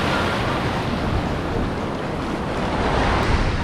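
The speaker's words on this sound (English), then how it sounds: "So Clay and I are gonna take her out here in the ocean." Ocean waves and strong wind at a cold-water beach, a dense continuous roar of surf with buffeting wind noise on the microphone, loud and steady with no talk.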